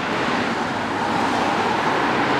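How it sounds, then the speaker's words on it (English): A truck driving past outdoors, heard as a steady, loud broadband engine and road rumble that stays constant throughout with no voices over it. "hear that truck moving"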